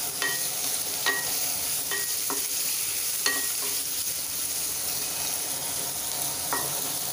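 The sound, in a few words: frying onion in a pan with stirring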